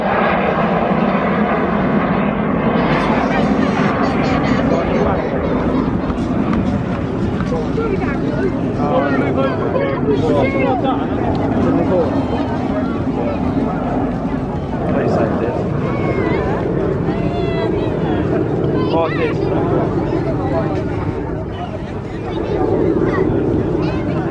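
A display aircraft roars past at the Eastbourne Airshow as a loud, broad, continuous engine noise. A commentator talks over it the whole time.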